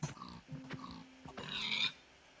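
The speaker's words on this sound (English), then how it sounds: "It's got pigs in it." Pigs oinking in a large savanna biome in Minecraft, several short grunts spread across the moment with a louder squeal near the end, close and clear with game ambience underneath.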